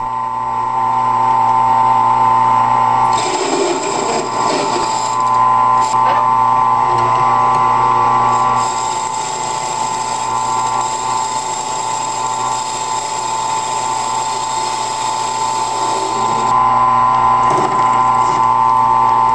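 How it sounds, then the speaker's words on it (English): Converted 10x18 wood lathe cutting metal, a loud continuous motor whine and tonal hum with a rougher, louder cutting noise in two long stretches, steady throughout with no talking. "Here's a heavier cut to see what this lathe can take."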